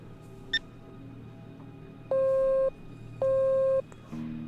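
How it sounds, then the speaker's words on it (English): Payphone call tones in the Gray Matter video game: two loud, steady electronic beeps of equal length sound one after another with short gaps between them, followed by the start of a lower tone over faint background ambience. "did I click payphone by mistake? I think I did."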